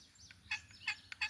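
A wild turkey gobbles in pre-season woods, a faint, distant series of rattling bursts repeated three or four times in quick succession over low ambient noise.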